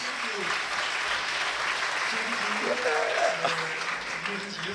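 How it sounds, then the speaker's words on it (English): Applause from a plenary session audience, a steady blur of clapping under a voice speaking over it. "Give her a round of applause"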